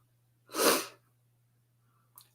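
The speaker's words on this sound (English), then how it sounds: "Oh, I'm going to sneeze." A single loud, close sneeze bursts out and fades within about half a second, then quiet returns over a low steady hum, with a small click near the end.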